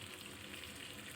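Tilapia fish fry in hot oil with a steady, soft hiss and crackle, continuous and fairly faint, with no talk.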